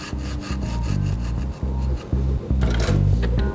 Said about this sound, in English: The reason I use the bandsaw to cut them off